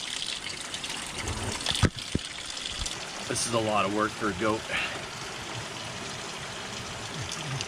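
A mountain stream rushes and burbles steadily nearby, with a voice speaking briefly over the flowing water.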